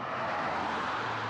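Traffic on a newly widened highway near Woodfords on the route to Carson Pass, heard as a steady, fairly loud broadband roar of passing vehicles with no pauses.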